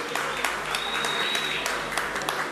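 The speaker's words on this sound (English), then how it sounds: "Give him a round of applause." Round of applause from the audience at a Black Excellence cocktail mixer, steady dense clapping with a few sharper individual claps on top, a thin feedback whine from the sound system, and no voices heard.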